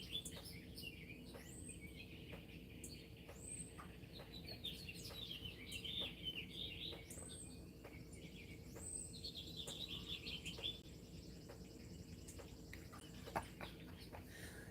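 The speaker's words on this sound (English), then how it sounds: "all the birds start singing" Many birds sing and chirp at dawn, with repeated bright warbling phrases and scattered tweets over a steady hum of insects and low background noise, moderately distant and continuous with no talk.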